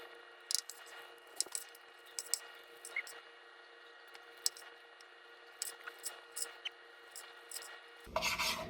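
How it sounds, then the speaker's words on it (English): A knife slices through tender, slow-cooked brisket that falls apart as it is cut, giving soft, close rasping and squishing strokes in short irregular bursts over a quiet background. "It's kind of falling apart as I'm cutting it"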